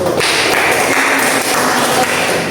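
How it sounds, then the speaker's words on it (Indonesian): A classroom audience claps together, a continuous loud wash of many hands sustained evenly for a couple of seconds with no talking over it. "Sambil tepuk tangan."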